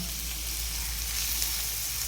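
A green moong mixture sautéing in oil in a pan gives a steady, even sizzle and crackle throughout, close up and unbroken, with no talking.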